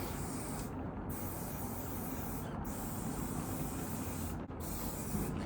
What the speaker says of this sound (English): This is just random hairspray I had